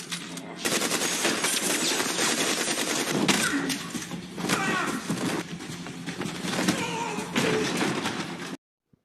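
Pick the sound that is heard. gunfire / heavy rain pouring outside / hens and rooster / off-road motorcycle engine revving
gunfire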